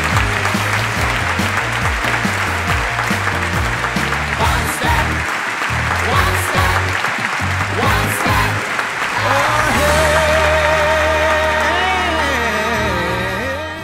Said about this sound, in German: Bitte einen heftigen Applaus